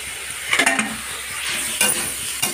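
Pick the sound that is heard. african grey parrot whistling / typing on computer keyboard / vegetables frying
vegetables frying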